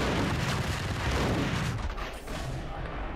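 Grenade explosion in the Max Payne video game, a loud sustained rumbling blast that fills the whole clip and eases slightly toward the end.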